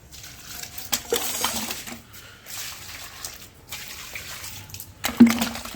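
Water poured from a mug into dry potted plants, heard as a few separate splashing, trickling pours with short pauses between, fairly close and alone.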